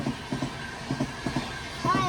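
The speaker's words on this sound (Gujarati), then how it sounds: "આવી ગઈ ને ટ્રેન હા કઈ છે રાજધાની" A Rajdhani train arriving at a station, its wheels clacking in a regular rhythm over rail joints, moderately close, with people talking over it.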